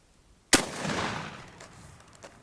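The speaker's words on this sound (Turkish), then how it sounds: "bir tek kurşun, bir saçma, bir tane de tek kurşun atıyoruz ve bir sefere atış yapacağız" A single loud shotgun blast from a D-Doxcarms DP-26 over-under shotgun during test firing, a sharp crack followed by a long decaying rumble outdoors.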